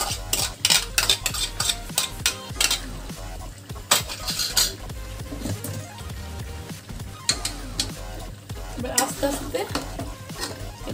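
A spoon stirs yogurt into chicken frying in a pan over a low flame for Bengali dahi chicken: continuous scraping and clinking of utensil on metal over a steady sizzle, close and busy throughout.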